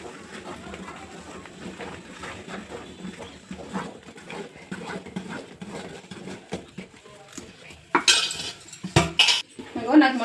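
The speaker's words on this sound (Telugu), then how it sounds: "ఈ పాకంలో ఈ జల్లెడ పట్టుకున్న పిండి వేసుకుంటూ కలుపుకోవాలి" Sifted rice flour is stirred into thick jaggery syrup in a pot: a muffled, rhythmic stirring throughout, ending in several loud, close clanks of a utensil against the pot.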